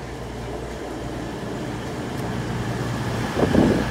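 A four-coach CrossCountry train bound for Plymouth from Glasgow Central runs through Bristol Parkway station in the rain, a steady low rumble with a mechanical hum that swells slightly near the end.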